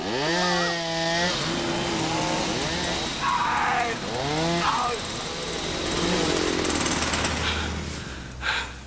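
A chainsaw cutting down trees revs in repeated rising and falling bursts, loud and close, with a rough engine drone between surges and voices partly mixed in.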